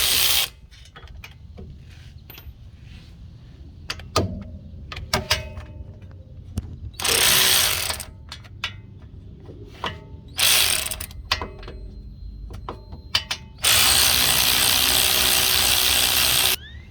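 Ratchet wrench backing out a 15 mm bolt on a Ford Edge AWD axle during an axle seal replacement: bursts of rapid clicking, several separate runs with short pauses between, close and loud, no talk.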